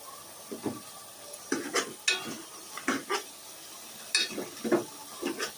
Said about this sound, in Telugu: ఒకసారి కలుపుకుందామండి ఇప్పుడు పసుపు వేసుకున్నాము